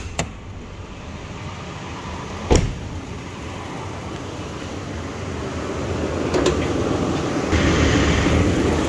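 A 2011 Toyota Tacoma's V6 idles with the hood open, a steady close mechanical hum with a couple of sharp clicks, no talking.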